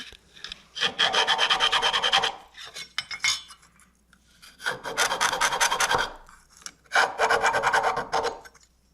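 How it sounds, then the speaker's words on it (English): A round file rasps across the flanges of an HS nose rib, deburring and rounding squarish radii in three long bursts of steady back-and-forth strokes, close and loud with brief pauses between. "I noticed that the radii on these other flanges were squarish, so we round those with this round file."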